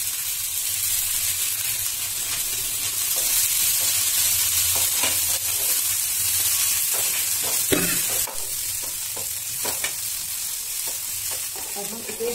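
Cabbage stir-fried on a high flame for veg chow mein, a loud steady sizzle with repeated scraping stirs breaking through, alone without talk.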